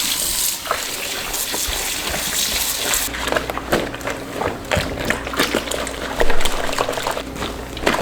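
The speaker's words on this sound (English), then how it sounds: "I'm going to add more hot water." Hot water poured and sloshed during wet felting of a Scottish Highlands tam, a steady nearby splashing and trickling stream with bursts of agitation, no voices.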